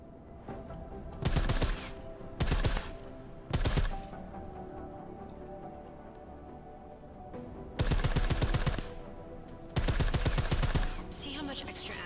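Silenced combat rifle firing in Deus Ex: Mankind Divided: five loud bursts of gunfire, three short ones close together early on, then two longer sustained bursts later, with quieter game ambience between them.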